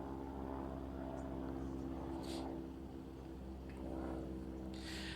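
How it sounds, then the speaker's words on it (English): A propeller plane drones overhead, a steady low engine hum that swells and fades slightly, with a few faint rustles in the foreground. "There's a plane going over."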